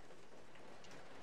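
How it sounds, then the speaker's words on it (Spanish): Steady rain from the video game Resident Evil Zero hisses as a quiet, even wash of falling water, with a few faint drip-like accents and no voices. "La intensa lluvia está dejando paso a un chaparrón."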